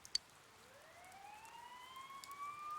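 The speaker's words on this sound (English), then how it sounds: "You hear sirens nearby." A faint, distant police siren in the video game Persona 4 wails, its pitch sliding upward and holding, over a soft hiss like light rain.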